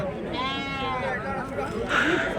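At a livestock market in Angallu, a sheep lets out one wavering bleat close by while people talk over the crowd noise.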